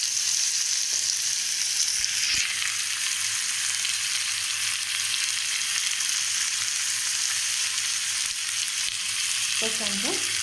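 Tomatoes sizzle and sauté in a pan for a simple tomato gravy, a loud continuous frying hiss with a brief stir scrape near the end.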